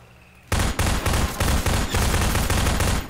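Sustained bursts of automatic gunfire in Half-Life 2, loud and close, starting abruptly after a quiet moment and running in rapid volleys with brief gaps, with no talk over it.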